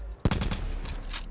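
Rapid gunfire from the video game Call of Duty Black Ops 4, a loud first shot followed by a quick burst of repeated shots and echoing tails in just over a second.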